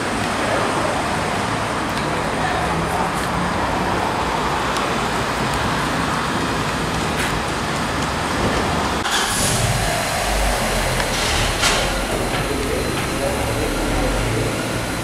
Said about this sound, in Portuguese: dá pra gente dar uma esticadinha até uns 5 mil giros